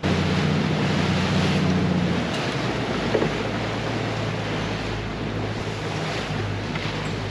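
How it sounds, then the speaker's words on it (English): A fishing boat runs fast back to port through a quartering sea in the Gulf, with a steady loud roar of engine, wind and slapping spray that carries on throughout, the hull thumping into waves. "what a wet ride on the way back. Straight up quartering sea."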